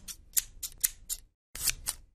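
Scissors snip in quick, crisp bursts: about five sharp cuts, a brief silence, then two more close snips, all alone and near.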